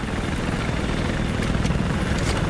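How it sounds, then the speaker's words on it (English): Steady, dense rotor roar of a helicopter in Battlefield, continuous and fairly loud with rumbling low end and no talking. "There's a bad guy helicopter"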